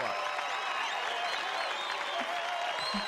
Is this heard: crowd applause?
yes